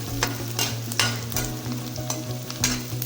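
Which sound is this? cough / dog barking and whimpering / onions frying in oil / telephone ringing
onions frying in oil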